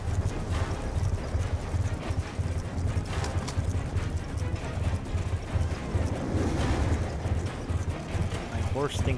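Horse hooves clip-clop steadily through a Black Ops 2 campaign mission, a continuous rhythmic gait under dense game sound, wind and ambient noise, with a voice speaking over it.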